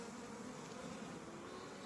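Honey bees buzz during a swarm catch, a soft, continuous droning hum that holds steady and fairly faint, with no talking over it.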